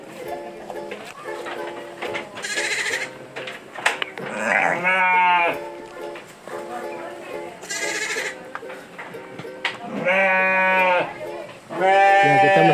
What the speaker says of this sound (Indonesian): Nah, ini ada kambing.